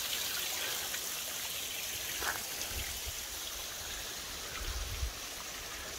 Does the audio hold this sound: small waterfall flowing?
yes